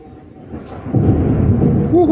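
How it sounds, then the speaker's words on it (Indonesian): Thunder rolls during a rainstorm outside a repair workshop, a deep rumbling swell that starts softly and grows loud about halfway through, then sustains with a faint tonal whistle near the end. "Banyak petir."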